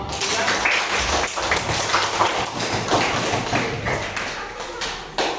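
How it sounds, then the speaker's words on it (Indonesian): Students in a classroom applaud two groups during a coding and artificial intelligence lesson, giving dense, continuous clapping with some close taps and thuds for several seconds. "Tepuk tangan untuk kelompok 2 dan kelompok 3."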